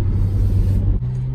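Steady low engine rumble from inside a car driving through central Krasnodar, a constant interior drone with a brief dip near the end, no talking.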